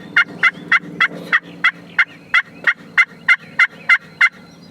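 Wild young turkey jake gobbling over and over in a steady rhythm during a spring youth hunt on Tennessee public land, about a dozen loud, close calls with no talk.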